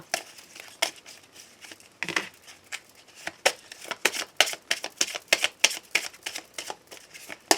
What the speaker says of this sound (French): je vais terminer mon tirage par prendre un message avec l'oracle de Steph